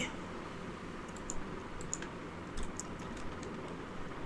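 Keys tapped on a computer keyboard while entering text into an Excel spreadsheet, a quiet, irregular run of light clicks spread over a few seconds, close by and without speech.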